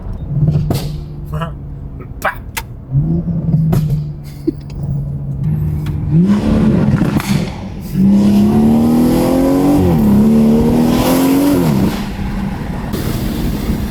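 A BMW F22 M240i with a B58 engine, aftermarket exhaust and free-flow downpipes, idles steadily, then revs hard in rising sweeps with loud, raspy exhaust that holds high, close up, with brief speech in between.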